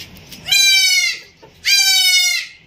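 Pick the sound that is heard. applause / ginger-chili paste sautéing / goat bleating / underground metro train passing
goat bleating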